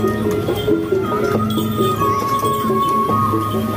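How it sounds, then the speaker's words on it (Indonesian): Horses clip-clop on a busy street on a Sunday morning, with steady hoof clacks over crowd murmur and background music. "Kuda mulu, kuda tuh."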